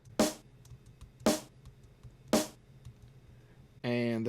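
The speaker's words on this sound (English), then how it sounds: "The snare sounds like this." Snare drum in a mix: three sharp, bright hits about a second apart over a quiet low beat, then a voice starts speaking at the end.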